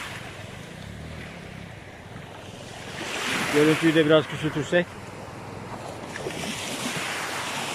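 Sea waves wash onto the shore at Kefken at sunset, a steady rushing surf with wind noise on the microphone, while someone speaks briefly over it midway.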